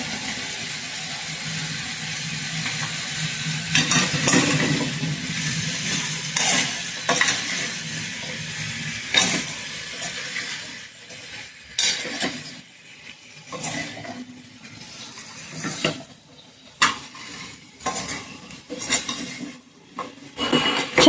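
A spoon stirs turmeric into pumpkin (gangaphal) bhaji in a pan. Repeated scraping and clinking sounds rise over a soft sizzle, and the strokes come irregularly throughout with no speech.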